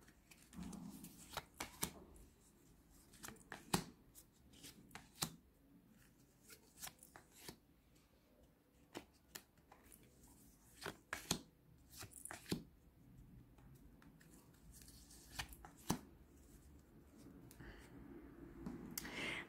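Tarot cards are shuffled and dealt out into a nine-card spread, giving quiet, close, irregular snaps and soft slaps of the cards on a table that repeat throughout over low background noise.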